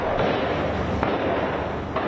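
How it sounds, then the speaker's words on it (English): Dense, continuous crackling bursts of distant gunfire during clashes between Israeli troops and Palestinian fighters, with a few sharper reports standing out, steady and loud throughout. "Gunfire could be heard amid clashes between the IDF and Palestinian fighters"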